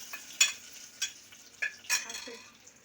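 A fried tempering with curry leaves gives a sharp sizzle with several quick spattering bursts, close and fairly quiet, as it is added to cooked lentils.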